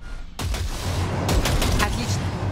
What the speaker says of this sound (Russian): Дай по ней короткую очередь.